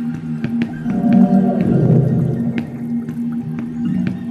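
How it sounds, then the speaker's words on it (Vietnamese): A fish creature from the horror game Zoonomaly gives an eerie, droning call with low sustained tones, scattered dripping clicks and a swelling middle section, continuing steadily for several seconds. "Là cái đó là âm thanh của con cá đó hả?"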